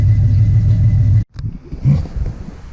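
A squarebody Chevy pickup truck's engine rumbles loudly at a steady idle, cuts off abruptly, then surges back with a throaty rev close by.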